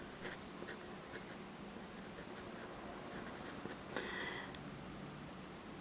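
A Hero 616 fountain pen with a hard, nail-like nib scratches across paper in faint, quiet strokes, with brief pauses and a slightly firmer scrape near the end.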